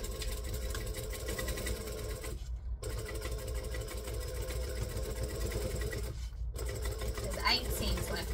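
A sewing machine stitches seams on a fabric craft tote in a steady, continuous mechanical whir, pausing briefly twice before running on, close and moderately loud.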